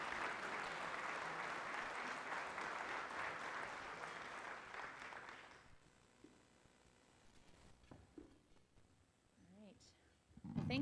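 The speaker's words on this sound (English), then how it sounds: "Please a round of applause" A Rotary luncheon audience applauds the guest speakers in a dense, fairly distant burst that fades out after about five seconds, followed by quiet room shuffling and a few brief voices.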